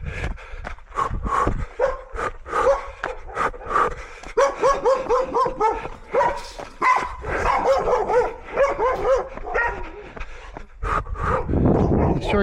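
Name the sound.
overexcited dog barking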